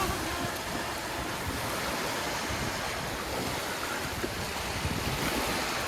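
Steady roar of sea waves and surf at a Thai beach, broadband and continuous with wind buffeting the microphone, no clear individual wave breaks.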